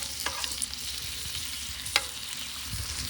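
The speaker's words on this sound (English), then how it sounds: "time to flip the bacon over" Bacon frying in its own grease in a pan on a Patriot M&S rocket stove outdoors in cold weather, giving a close, steady crackling sizzle broken by a couple of sharp clicks.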